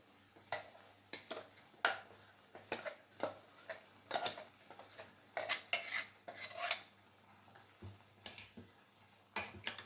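Metal spoon clinks and scrapes against a pot as ground masala is added and stirred into a prawn and Malabar spinach curry, a series of sharp irregular taps and clatters close by.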